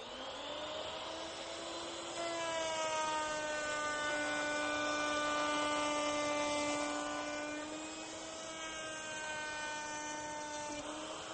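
A router table cutting a wood piece, giving a steady, even whine with strong tonal harmonics that holds for the whole stretch at moderate loudness, with no voices.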